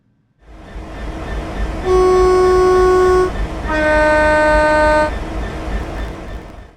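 A train rumbles steadily in Train Simulator while two long horn blasts sound in turn, each held for over a second, loud and close.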